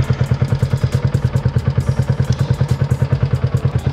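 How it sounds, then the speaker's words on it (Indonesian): A Yamaha Y15ZR motorcycle idles through a Joe muffler exhaust, each firing pulse thumping out in a quick, even, close-up beat that repeats steadily without any talk. "mungkin kita sekarang dengerin langsung aja suaranya kayak gimana dari knalpot Joe"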